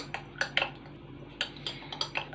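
A spoon clinks against the sides of a glass while stirring a drink, making a string of quick, light metallic taps at an uneven pace, fairly close and quiet, with no talking.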